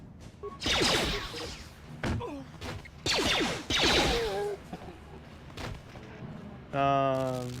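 A grenade blast in Star Wars: Knights of the Old Republic. Several heavy booming bursts punctuate the game sound, with voices and a short tonal game cue at the end.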